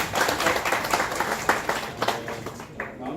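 A crowd at a public hearing applauds, a dense steady patter of many hands clapping that fades slightly toward the end.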